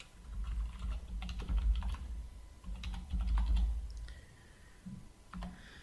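Computer keyboard typing a username and password, a steady run of close, brisk key clicks in bursts with short pauses, set against a low room hum.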